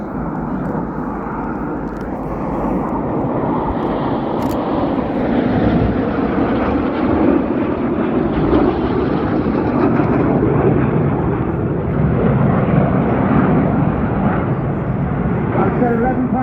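Red Arrows jets roaring overhead in formation at the Cosford airshow, a loud continuous rumbling jet-engine wash that builds and holds throughout, with a commentator talking over it.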